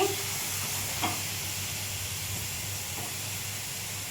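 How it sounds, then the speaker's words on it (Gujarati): Carrot juice hits caramelized sugar in a pan for a ragi-carrot kheer, giving a steady, loud sizzling hiss with a couple of faint stirring touches and no talking. "આ કેરેમલાઇઝ સુગરમાં આપણે ગાજરનો જ્યુસ મિક્સ કરીશું"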